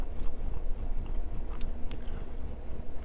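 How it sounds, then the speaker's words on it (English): Someone chews Wingstop fries close to the microphone, with soft, wet crunching and biting sounds that continue steadily with no talking. "I hate how I chew."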